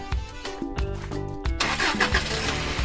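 A jeep engine in a children's cartoon about a monkey mechanic cranks with a few starter pulses, then catches and settles into a steady, close, loud running rumble, with no talk.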